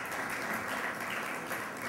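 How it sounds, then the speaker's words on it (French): Steady applause from an event audience at a business awards launch, a dense continuous patter of many hands filling the room at moderate level without pause. "applaudissez, je vous entends"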